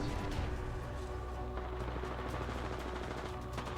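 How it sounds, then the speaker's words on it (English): Gunfire in the battle-royale video game Apex Legends, a dense, continuous crackle of shots, in-game sound effects, and combat noise running steadily at moderate loudness throughout. "I am taking fire, friends."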